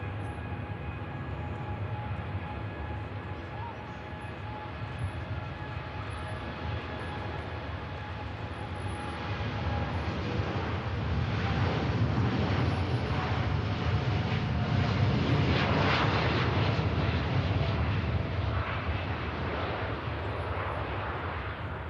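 A steady, distant roar of an aircraft taking off from Manchester Airport, a broad engine rumble that swells gradually toward the middle and stays sustained, no voices.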